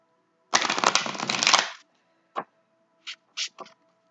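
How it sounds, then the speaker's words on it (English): A deck of tarot cards is riffled in one loud, close burst of rapid flutter. A few separate light taps and snaps of the cards follow. "They want me to shuffle again."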